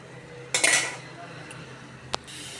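Tomatoes stirred in an egg curry pan, a few metal spoon scrapes and clinks against the pan over low kitchen background, with one sharp tap near the end.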